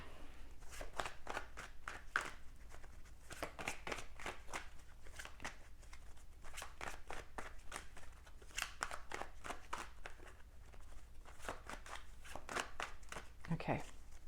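Tarot cards handled and drawn from the top of the deck one by one, a series of crisp close card snaps and slides in uneven rhythm, with a voice speaking quietly in places.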